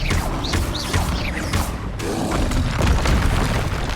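Confringo explosion spell cast in the Hogwarts Legacy video game, a burst of loud booming blasts and crackling magical effects repeating over a dense, continuous layer of game sound.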